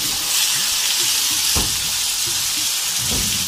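Loud, steady sizzling of fish pieces frying in hot oil in a karahi, with a couple of soft clinks from a utensil in the pan.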